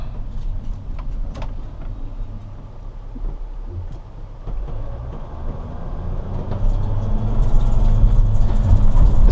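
A 2011 Mercedes Sprinter 144 high-roof van driving through town, heard from the cabin as a constant low engine and road rumble with occasional rattles, growing louder and fuller as it accelerates toward the end.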